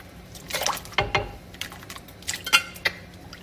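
Very hot water splashes and trickles in short bursts as it is poured, with a few drips and clinks close by, no voices.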